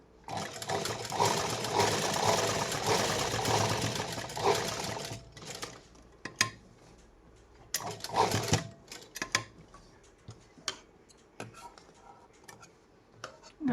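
A sewing machine runs a steady, close, loud stretch of stitching as a patch is attached to a blouse sleeve, then drops to scattered clicks and short mechanical bursts.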